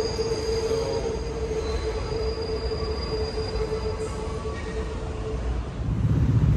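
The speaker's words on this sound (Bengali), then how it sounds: "ট্রেন যাচ্ছে, সামনে হলো কুইনব্রো প্লাজা।" A W subway train runs on the elevated line toward Queensboro Plaza in New York, a steady rumble of cars on track with a sustained high wheel squeal, growing louder near the end.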